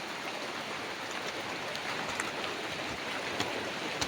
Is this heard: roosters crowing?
no